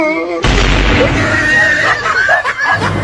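Cobra MP40 submachine gun firing in a shooting video game: a loud, dense burst bursts in abruptly and roars on continuously, close and full, with no clear gaps between rounds.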